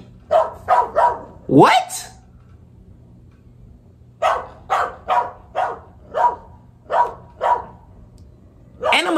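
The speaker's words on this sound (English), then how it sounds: "Animals just be barking at anything." A dog barks in a quick run of sharp, close barks, goes quiet for a couple of seconds, then barks again in a steady series of evenly spaced woofs. A voice speaks briefly near the start.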